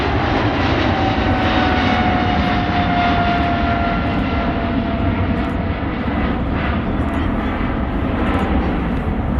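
A jet airliner touches down at Manchester Airport, its engine roar loud and continuous with a slowly falling whine, heard from nearby without any talk.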